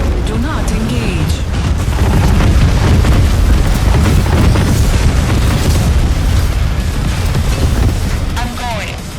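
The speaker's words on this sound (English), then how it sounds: "Airstrikes incoming." Airstrike explosions in the strategy game Tempest Rising, a loud continuous rumble of heavy booms and blasts with voices speaking over the barrage.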